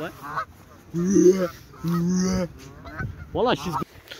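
Waterfowl at Wöhrder See lake in Nuremberg give several loud, close honking calls in short bursts, goose-like and nasal, with faint background noise between them.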